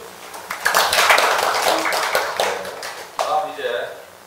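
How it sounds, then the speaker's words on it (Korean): Audience clapping at a Korean labor union panel discussion on the welfare state, a brief burst of many hands at moderate distance that swells, eases, then picks up again, with a voice briefly overlapping. "박수 부탁드리겠습니다"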